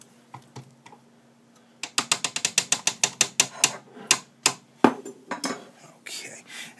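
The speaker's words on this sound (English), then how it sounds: "I'm just going to scrape down the bowl a little bit" Rapid scraping and tapping of a scraper against a mixing bowl while batter is prepared. A quick run of crisp strokes is heard, then a few heavier knocks and a brushing swipe at the end, with faint talk nearby.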